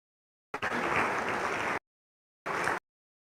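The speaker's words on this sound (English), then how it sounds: "Please keep clapping." Audience applause at a Nigerian panel event, a dense burst of many hands clapping for about a second, then silence, then a second shorter burst, the abrupt starts and stops sounding cut.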